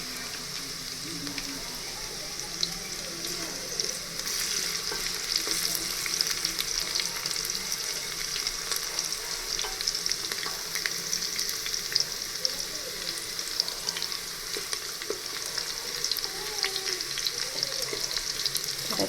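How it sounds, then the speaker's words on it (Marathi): Bay leaves frying in hot oil in a pressure cooker for chicken biryani, a steady dense crackling sizzle heard up close for the whole stretch, with faint clatters now and then. "यामध्ये सगळ्यात पहिले आपण तमालपत्र भाजून घेणार आहोत"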